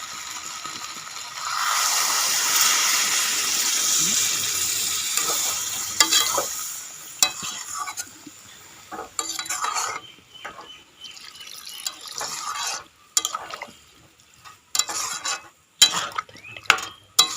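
Water is poured into jackfruit curry frying with prawns: a loud sizzling rush that surges, then fades into sputtering bubbles and intermittent clattering stirs, close up with no voices.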